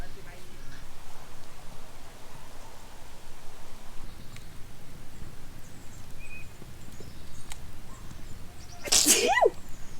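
A single sharp sneeze near the end, loud and close, rising out of a quiet outdoor background at a lakeside campsite.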